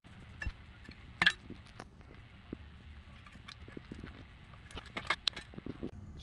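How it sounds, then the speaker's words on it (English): An old gasket scraped off the oil pan of a 2009 Hyundai Elantra, with sparse, sharp metallic scrapes and clicks from the scraper, close but fairly quiet, separated by pauses. "Scrape all the way around here. And you can also use brake cleaner to help you. So let's get this gasket off."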